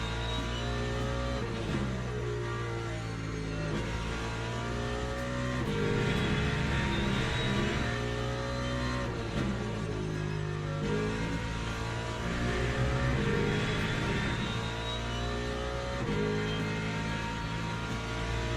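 A racing-game car engine revs hard after a downshift during a lap, loud mid-pitched engine notes climbing and dropping repeatedly in quick cycles, with no voices.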